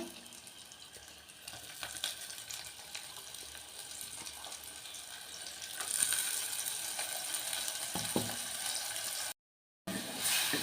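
Ground masala paste frying in oil for a Kerala-style fish curry, a steady crackling sizzle that grows louder midway, close and alone with no talk.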